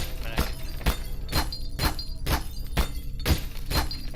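Glass being smashed repeatedly in a Garry's Mod horror map, a run of evenly spaced sharp crashing impacts, about two per second, loud and close over a low background hum.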